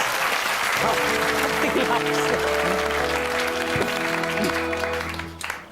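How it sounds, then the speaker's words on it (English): Applause from an audience fills the clip steadily, with sustained musical tones and a voice layered over it, fading toward the end. "Give him a big round of applause."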